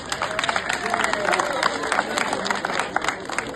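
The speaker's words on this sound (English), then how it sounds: "I think the president deserves a round of applause." Audience applause for a president at a student loan event, a steady dense patter of many hands clapping at moderate distance with crowd murmur mixed in throughout.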